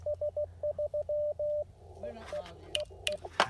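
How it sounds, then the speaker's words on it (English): Morse code sidetone from an Icom IC-705 amateur radio beeps in short and long steady tones, close and clear, then continues more sparsely under a person talking. "It's just doing a little Morse code"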